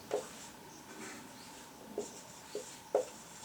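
Chalk or marker writing on a board during a classroom English grammar lesson, heard as a few soft, scratchy strokes, with a couple of brief clearer taps and scrapes against a quiet room background.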